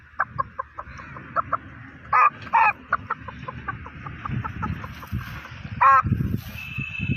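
A boy imitates a rooster, with quick clucking ticks and short strained crowing bursts over a steady background of rustling and murmur, the crows loud and close.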